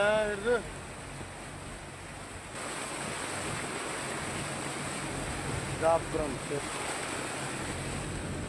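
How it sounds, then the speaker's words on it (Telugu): Steady broadband roar of rough surf whipped up by Cyclone Montha washing onto a shore, continuous throughout, with a voice speaking briefly near the start and again later. "తుఫాన్ ప్రభావంతో మంగళవారం ఉదయం నుంచే తీరంలో అలల తీవ్రత పెరిగింది."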